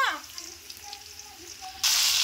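Garlic drops into hot oil, starting with a short clatter and a few faint crackles, then breaking into a loud, steady sizzle near the end.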